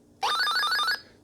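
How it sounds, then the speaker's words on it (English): A short electronic sound effect for breaking glass from the 1979 Stop Thief! electronic board game, a bright synthetic chirp that rises and then warbles steadily for under a second, clear and alone. "That's the sound of breaking glass."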